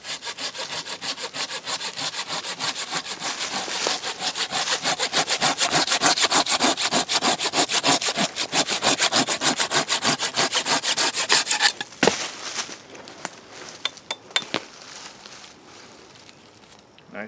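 A Silky Zubat 270 hand saw cuts through wood in quick, steady back-and-forth strokes for several seconds, then stops, leaving only a few scattered knocks and scrapes.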